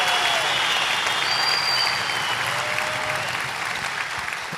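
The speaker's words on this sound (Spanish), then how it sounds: "Vamos a darle un fuerte aplauso a todos ellos." Audience applause at a convention, an even, sustained wash of many people clapping at moderate volume, tapering slightly toward the end.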